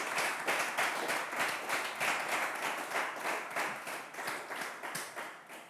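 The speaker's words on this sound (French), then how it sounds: "Vous méritez nos applaudissements, Ingrid." A steady round of audience applause, dense and continuous with rhythmic clapping swells, fairly loud and close, no voices over it.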